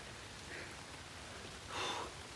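Light rain falls outdoors as a faint, steady hiss of drops, swelling briefly louder near the end, with no voices.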